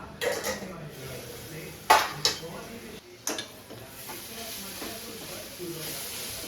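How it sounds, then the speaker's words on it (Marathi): Cooking pots and dishes clatter as they are set aside for washing after making a cabbage vegetable dish in a home kitchen, with a few sharp metallic knocks and scrapes over soft background hiss. "स्वयंपाकाची भांडी लगेच घासायला टाकायची"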